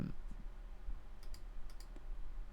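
Sparse, faint mouse clicks while a Unity game runs, a few isolated taps scattered over a low steady hum.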